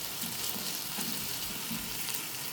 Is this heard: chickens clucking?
no